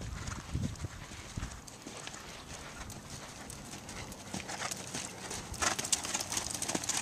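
A horse's hooves clip-clop steadily on an arena surface as it is ridden through a simple lead change in a dressage clinic, moderately close, with faint background noise.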